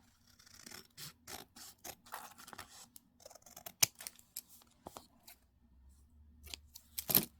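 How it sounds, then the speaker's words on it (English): Scissors snip through craft material in a quick series of crisp, close cuts, irregularly spaced with short pauses between bursts, some faint rustling of the material in between, with no talk. "I can probably snip a little bit more on the top."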